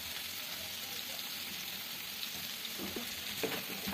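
Cubed potatoes frying in a kadai with salt, a soft steady sizzle with a few light stirring clinks toward the end, close and fairly quiet.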